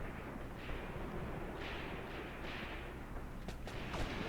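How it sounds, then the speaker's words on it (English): Heavy machine gun fire in the war game Graviteam Tactics, Vinyagolovo battle, rolls as a low, continuous rumble of distant shots with a few sharper bursts near the end, and no talking. "Oh, there's heavy machine guns here."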